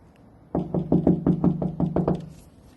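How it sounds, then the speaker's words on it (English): Knocking on a door, about nine firm, evenly spaced raps in quick succession, close and resonant, following a brief quiet moment. "Just then, the king's messengers knocked on the door."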